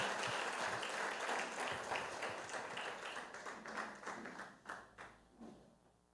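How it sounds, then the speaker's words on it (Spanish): A church congregation claps loudly for Jesus at a Christian service, dense applause that thins out into scattered, separate claps before it ends. "dele un fuerte aplauso a Jesús"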